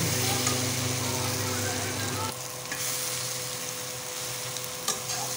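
Green jackfruit sautéed in goat fat with spices, a busy sizzle and scraping stir with a low hum that drops out midway, leaving quieter frying with occasional clinks.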